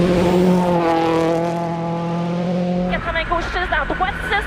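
Mini rally car at speed on a special stage of the Rocky Mountain Rally, its engine note loud and sustained, a revving harmonic drone that cuts off abruptly into choppier gear-change bursts.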